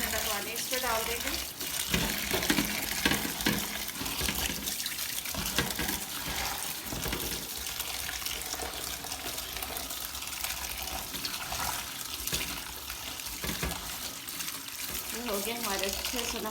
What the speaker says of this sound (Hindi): ठंडा पानी इस पर डाल देंगे।